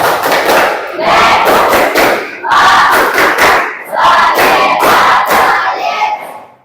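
A classroom of students chants loudly in unison while clapping in rhythm, a tepuk clap chant in an Indonesian social studies lesson, the group voices and sharp hand claps coming in several bursts with short pauses between.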